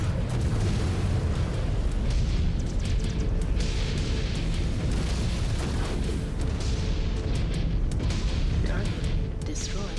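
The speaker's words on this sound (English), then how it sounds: "Incoming missile." Missile impacts and explosions rumble continuously through a MechWarrior 5 Clans battle, heavy low booms layered with sharp bursts and crackles, while voices talk over the combat.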